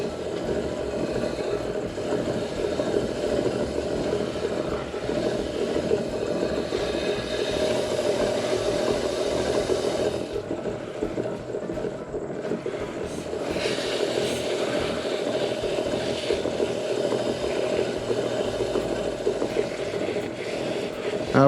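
A wood lathe spins a segmented poplar and wenge bowl at 100 RPM while finish is applied, giving a steady, continuous motor drone with a rumbling undertone that holds throughout, without speech over it.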